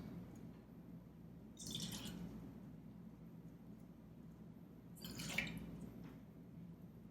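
Pineapple juice is poured into a cocktail tin in two short, faint splashing pours separated by quiet room tone.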